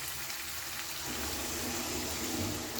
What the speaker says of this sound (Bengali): এবার আমি এতে দিয়ে দিচ্ছি জল ঢেলে।